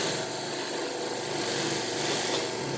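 A WEN 4208 drill press with a somewhat dull bit boring through wood, a steady continuous whirring, grinding drone, close and loud, with no voices.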